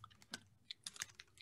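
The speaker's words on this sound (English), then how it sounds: "Yeah, you chew so loud." A dog chews a treat close up, giving a quick run of crisp, wet crunches and clicks spaced irregularly over a quiet background, faint overall.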